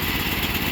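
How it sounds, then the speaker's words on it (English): A small engine runs on choke while warming up, a steady close rough idle with no voices. "right now it's pretty much running only on choke. Still warming it up."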